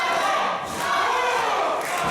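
A dense wrestling crowd roars continuously, urging a downed wrestler back to his feet, with shouts and cheers swelling loudly throughout and a few dull thuds underneath.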